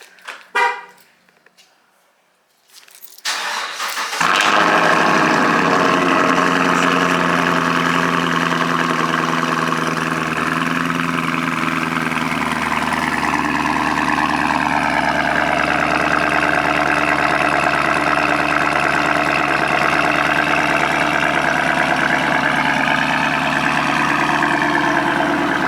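A Chevrolet Camaro fitted with an MBRP cat-back exhaust cold starts: a brief crank, then the engine catches with a loud flare and settles into a steady, loud, raspy idle that holds close by.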